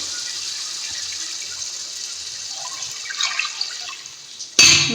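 Water poured into a cooking pot over sautéed ginger and garlic for matar pulao, a steady broad splashing stream that holds for several seconds, then ends in a brief louder splash.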